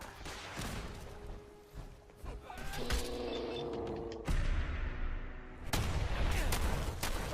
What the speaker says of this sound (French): Donc du coup, voilà, je me suis mis au fusil de combat.